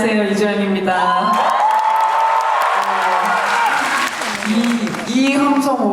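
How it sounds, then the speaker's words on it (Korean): A crowd cheers and screams at a stage greeting for the film Broker at the Busan International Film Festival, a loud sustained roar with voices talking over it. "이 함성 오랜만에 듣는 것 같아요"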